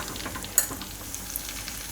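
Asafoetida hitting hot oil turned down to low heat for a tempering, giving a brief soft sizzle with a sharp crackle near the start, then a quiet steady frying hiss.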